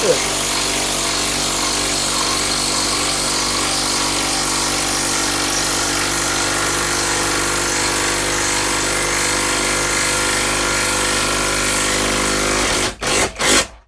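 Eltos BL300Hm 20 V cordless impact driver with a 4 Ah battery sinking a 125 mm lag screw, a loud continuous hammering whir running near and steady for about thirteen seconds before stopping in a few short bursts.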